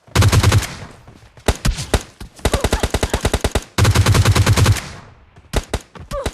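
Automatic gunfire in the mobile battle-royale game PUBG Mobile Lite, with sustained loud full-auto bursts and several rapid single shots in between, close and dominant, with no talking.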